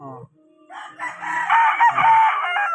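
A pure Boston Millionaire gamefowl rooster (LDT line) on a breeding farm gives one loud, sustained crow close by, its rising call drawn out for roughly two seconds, with a brief low cluck beforehand.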